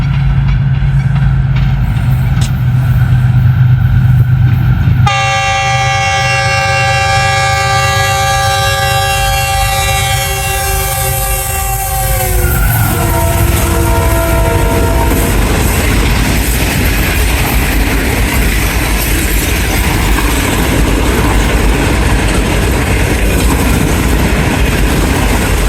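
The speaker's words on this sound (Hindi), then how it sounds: "Thirty four down business express जानिया पहुंच रही है, तकरीबन 40 मिनट लेट है।" The 34 Down Business Express train speeds through Jahanian station at night, opening with a loud multi-tone horn blast that slides down in pitch as the train nears, then a heavy continuous roar and rattle of passing coaches.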